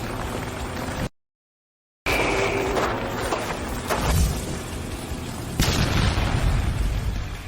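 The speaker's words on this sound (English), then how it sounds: "It is a bomb!" A bomb blast in the video game Bastion Forge bursts in as a loud, heavy boom, then rolls on as a sustained rumble with further thuds and crackling, after a brief moment of silence near the start.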